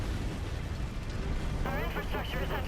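Mech in MechWarrior 5: Rise of Rasalhague stomping through and wrecking enemy buildings, a dense continuous rumble of crashing and booming, with a voice talking over the second half.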